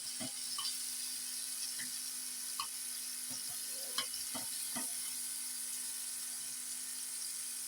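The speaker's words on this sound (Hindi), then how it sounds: "अभी हम इसको मैश करेंगे ऑयल के अंदर।" Tomato pulp mashed into hot oil in a pan for pizza sauce, a steady sizzle under a series of soft scraping knocks from the mashing, with no talk.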